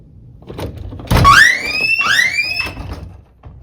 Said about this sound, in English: The alarm will sound.